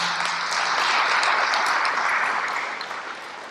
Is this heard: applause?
yes